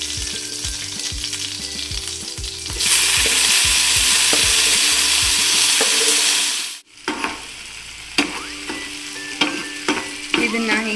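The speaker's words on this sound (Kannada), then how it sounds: "ಸಾಸಿವೆ ಸಿಡಿದಿದೆ, ಅದಕ್ಕೆ ಹೆಚ್ಚಿಟ್ಕೊಂಡಿರೋ ಬೆಳ್ಳುಳ್ಳಿ, ಆಮೇಲೆ ಹೆಚ್ಚಿಟ್ಕೊಂಡಿರೋ ಮೀಡಿಯಮ್ ಸೈಜ್ ಟೊಮ್ಯಾಟೊ ಹಾಕೊಳ್ಳೋಣ" Chopped garlic and medium-sized tomatoes hit a hot mustard-seed tempering, releasing a loud burst of sizzling that drops off abruptly, followed by quieter frying with scattered clicks and stirring scrapes.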